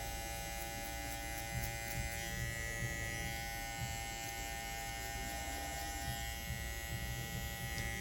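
Electric hair clippers run steadily while cutting coiled hair for a temp fade, a constant close buzzing hum with faint rasping texture throughout.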